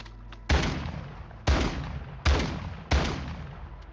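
Gunshots in Warzone Mobile, four sharp, loud reports spaced about a second apart, each followed by a short decaying tail, with no talk over them.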